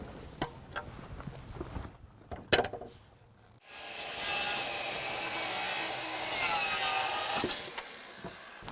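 After a few knocks and handling clatter, a power saw starts and cuts through deck framing lumber in a loud, sustained whine and rasp lasting several seconds at close range.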